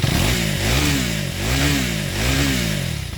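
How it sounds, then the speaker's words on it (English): A 2025 KTM 390 Adventure X motorcycle engine revs up and down three times in steady waves, a deep throaty exhaust note close by, with no talking. "Let's hear it a bit of an exhaust note of this bike."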